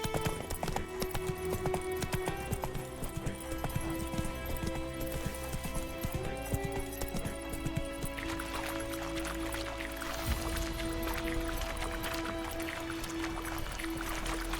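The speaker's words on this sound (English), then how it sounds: "Run, Roach." Horse hooves in the video game The Witcher 3, a fast rhythmic clip-clop of galloping under a bed of orchestral game music and ambience, steady and moderately loud throughout.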